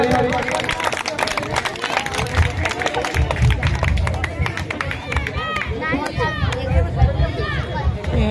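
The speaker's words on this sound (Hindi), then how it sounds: "ताली जोरदार ताली" A crowd at a school function claps loudly and continuously, overlaid with chatter and someone talking over a microphone.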